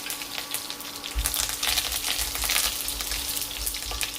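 Mustard seeds crackle and splutter in hot coconut oil with curry leaves and dried red chillies, a dense steady sizzle with scattered sharp pops, close and fairly loud, no voices.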